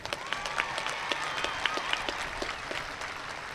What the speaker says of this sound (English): Please give our valedictorians a round of applause.